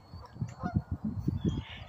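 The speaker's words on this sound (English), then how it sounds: "here, let's look at the geese." Geese at Middlefork Reservoir honk repeatedly in a rapid, uneven series of calls, moderately distant and fairly soft outdoors.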